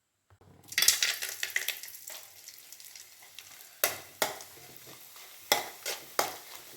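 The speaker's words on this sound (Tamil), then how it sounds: "இப்படி சூப்பராக பொரியுது பாருங்க" Onion vadagam, a sun-dried onion fritter, fries in hot oil with a crackling sizzle, interrupted by sharp scraping bursts from stirring, all heard without talk.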